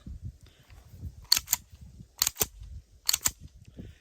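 The trigger of a Tisas Duty full-size 9mm 1911 pistol is pulled several times, giving three crisp pairs of sharp metallic clicks spaced about a second apart in a quiet room.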